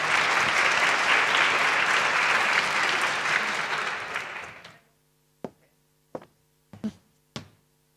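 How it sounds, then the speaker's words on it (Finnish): A dense round of applause from a seated audience at a Finnish child-rights event holds for about five seconds, then fades out, followed by a handful of separate, sharp, close claps or knocks in the quiet. "Annetaan heille aplodit"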